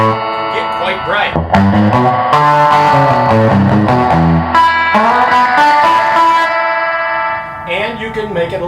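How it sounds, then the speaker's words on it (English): Electric guitar notes and chords ring through a spring reverb tank effect, each tone sustaining and trailing into a washy decay, played close and loud with no talking. "which is the amount of reverb, how that reverb dwells and sustains"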